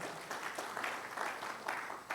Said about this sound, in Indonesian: Berikan sekali lagi tepuk tangan.